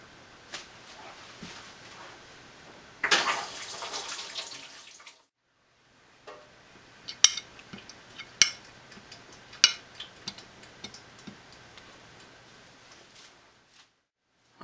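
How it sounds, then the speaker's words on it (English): Water runs and splashes in a sink while copper coins are scrubbed with baking soda and soap, a burst of running water followed by a pause and then scattered close clinks and scrubbing sounds. "Gonna give them another scrub with the baking soda and a little bit of soap as well"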